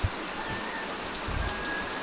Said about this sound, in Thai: ฝนตกนี่ลำบากเนาะ